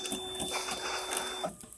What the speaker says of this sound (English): that's the printer at my job